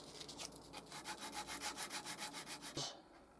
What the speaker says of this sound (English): I just want to smooth it off a little with a bit of sandpaper.